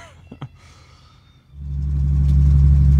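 A BMW E30 325iX turbo with no carpet and its muffler exiting under the passenger seat, heard from inside the cabin: a quiet stretch with a couple of faint knocks, then a loud, heavy low engine drone swells in and holds steady.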